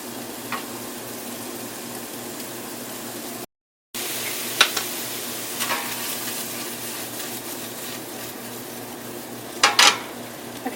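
Nineteen meatballs browning in a hot pan, giving a steady close sizzle across the clip with a few sharp crackles and clinks of pan contact, a brief dropout near the start and no talking.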